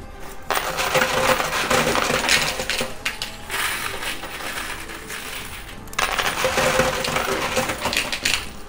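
A steady rush of coins pours and clinks through a high-limit coin pusher machine, a loud close metallic clatter that swells in two long waves with a brief lull between them.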